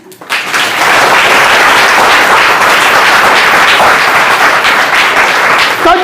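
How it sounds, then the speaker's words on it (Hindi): A congregation at a Christian prophetic service claps loudly and steadily, a dense wash of many hands that rises quickly at the start and holds strong throughout. "जोर से बजा दीजिए ताली।"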